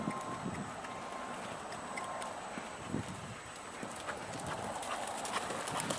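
Horse hooves trotting during a training session, a steady clip-clop rhythm at moderate distance running continuously over a light wind and outdoor background.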